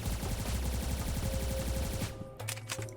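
Rapid LRPR-1 rifle hipfire in the Aimblox video game, a dense steady stream of punchy shots for about two seconds, then an abrupt stop with a few trailing clicks, no talking.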